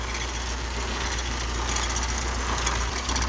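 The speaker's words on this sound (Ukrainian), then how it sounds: "Ось, мотор працює рівно, ні підсосу не давали нічого." A Mercedes E190 engine idles steadily up close without choke, a constant low rumble with a faint mechanical ticking and no voices.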